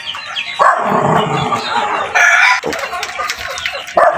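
A rooster crows loudly and close by while hens cluck around it in a breeding pen of ten hens and two roosters, with a dog barking briefly in the background of a busy yard.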